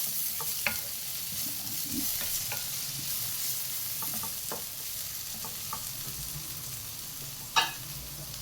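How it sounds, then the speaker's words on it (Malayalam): Chopped tomato and onion fry in a pan with a steady soft sizzle while a spoon stirs them, sending occasional scrapes and clinks against the pan, close and fairly quiet with no voices. "ഇളക്കി മിക്സ് ചെയ്യാം."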